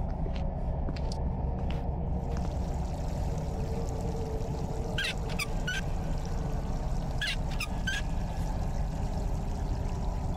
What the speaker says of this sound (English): That is literally a running faucet.